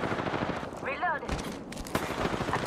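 Rapid automatic gunfire rattles in Apex Legends, with dense, loud bursts of shots filling the moment and a brief in-game voice cutting in partway through.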